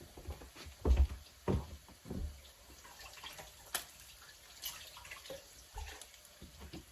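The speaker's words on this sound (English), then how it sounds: "So I'm going to rinse my hand." A kitchen tap runs briefly as hands are rinsed under it, a faint splashing patter with a few louder knocks and clunks, fairly quiet and close.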